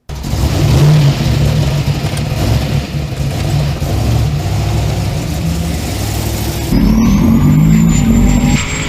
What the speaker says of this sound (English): It is about blazing tires.